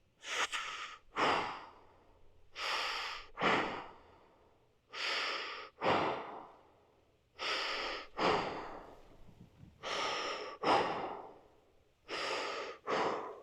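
Deep breathing during a hip fascia stretch in a lower-body fascia reset routine: about nine strong, close breaths in and out, alternating in a steady, unhurried rhythm, with short silent pauses between them and no talking.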